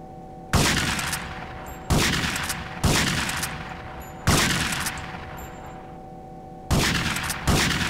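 Repeated shotgun fire in the video game GTA Vice City Stories, five heavy booms each trailing off in a decaying roar, fired a second or so apart over a steady low game hum.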